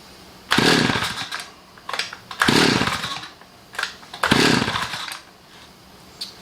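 Three sharp pull-cord yanks on a hard-to-start Stihl 010AV chainsaw with the choke on, each a loud ratcheting whirr that fades without the engine catching, with short rustles between pulls.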